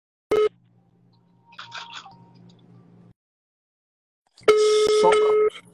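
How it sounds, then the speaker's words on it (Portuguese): Telephone keypad tones sound as a number is dialed from a second phone: a short beep, a few faint tones over a low hum, then a longer, louder tone burst near the end. "a gente vai ligar do outro telefone"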